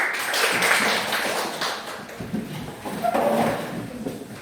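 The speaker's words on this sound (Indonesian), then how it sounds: "tepuk tangan silakan dulu." An audience clapping in a classroom or hall, a steady patter of many hands at moderate distance, continuous throughout with little speech.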